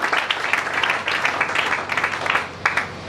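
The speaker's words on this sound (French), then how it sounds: "Acclamons très fort pour le Seigneur." A church congregation applauding for the Lord, with steady, fairly loud clapping from many people sustained throughout and occasional stronger accents.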